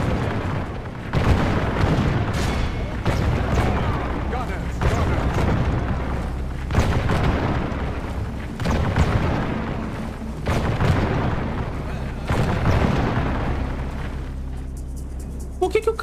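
Musket volleys and cannon fire in the Medieval II: Total War Americas game, a dense battle din of booming, crackling shots rolling on continuously, with a voice talking over it.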